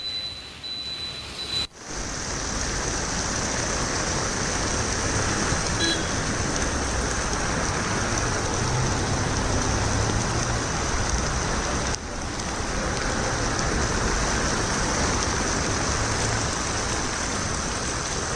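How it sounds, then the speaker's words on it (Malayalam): Heavy rain pours steadily in Kochi, Kerala, in a dense, loud roar with no voices, briefly dipping near the start before the downpour resumes at full strength. "കനത്ത മഴ തുടരുകയാണ്"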